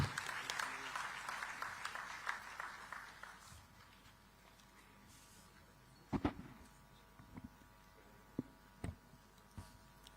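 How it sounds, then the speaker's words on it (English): An audience at a digital technology summit in Visakhapatnam applauds as a minister takes the stage, the clapping fading out after a few seconds, followed by scattered knocks and thumps near a microphone in a quiet hall. "Let us all express our appreciation with a thunderous round of applause"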